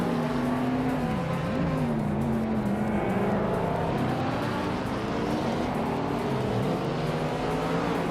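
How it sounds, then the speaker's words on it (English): Mazda RX-7, Ferrari and Audi race cars roar around a track in a racing game, with a continuous dense engine drone and rising and falling whines as they rev and shift. "The Mazda RX-7s are holding their own, but the Ferrari and Audi are close behind."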